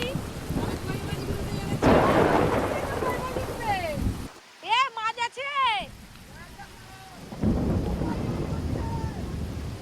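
A heavy, white-out downpour roars close around a house alongside rumbles of thunder. People talk loudly over it, and a short quieter stretch in the middle carries higher-pitched calls or cries.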